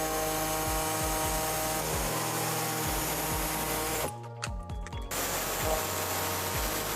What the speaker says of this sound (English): You can now trim out this section using an air saw.